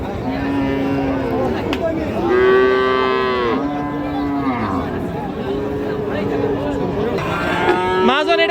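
Cattle at the Raniganj livestock market, among Friesian and crossbred bull calves, moo in several long, drawn-out calls one after another, loud and close over a steady hum of crowd noise.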